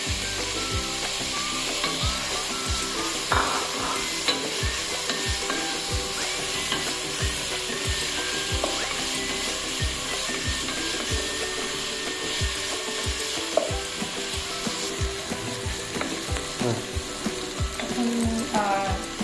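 Chopped yardlong beans fry in a pan for homemade mixed fried rice, with a steady close sizzle throughout and repeated scraping strokes of a stirring utensil.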